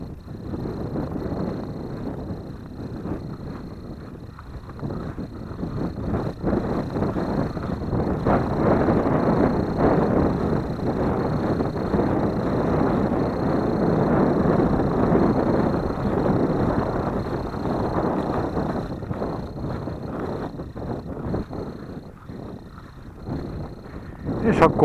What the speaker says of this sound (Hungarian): Itt azért fúj rendesen a szél, ahogy hallható ezen a felvételen.